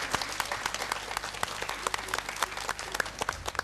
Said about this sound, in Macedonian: Одлично, заслужува аплауз, драги мои.